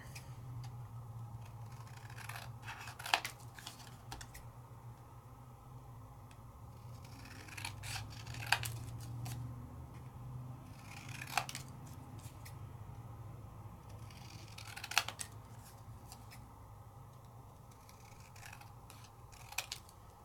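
Scissors trim a paper card layout in quiet, close snips, several sharp cuts spaced a few seconds apart over a faint low hum, with no talking.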